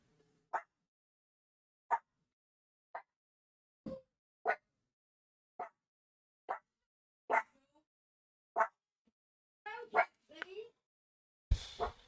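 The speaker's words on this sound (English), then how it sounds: "this dog just barks and barks" A dog barks again and again, about once a second. The sharp single barks are fairly loud against a quiet background, and a couple of whimpery yips come near the end.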